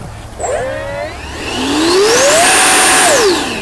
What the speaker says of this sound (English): Let's give it a little bit of an engine run up here.